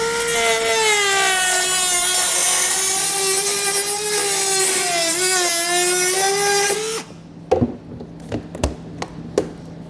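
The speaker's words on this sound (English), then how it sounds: "With this being somewhat thick plastic, I'm going to use a rotary tool to cut this out" A rotary tool cuts through a thick plastic panel on a 2020 Nissan Altima during a trailer hitch install, a loud steady high-pitched whine lasting about seven seconds, followed by several sharp taps and knocks.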